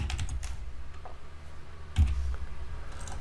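Typing text on a computer keyboard, a quick run of close, crisp key clicks with a heavier thump partway through, steady and uninterrupted with no talking.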